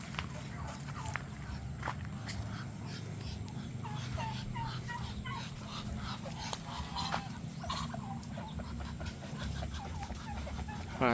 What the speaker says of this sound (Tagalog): Pato natin, dami na.